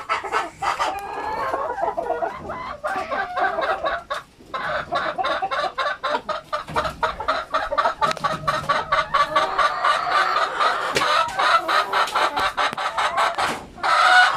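Chickens cluck and crow steadily around a nesting area with egg-laying boxes, a dense flock chorus of repeated calls, close and loud with no talking.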